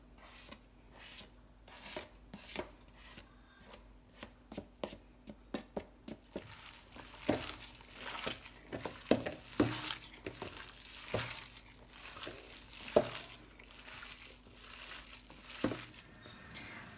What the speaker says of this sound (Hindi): ये जो चॉप्ड अनियन और गार्लिक मैंने लिए थे, अब कीमे में मिक्स करेंगे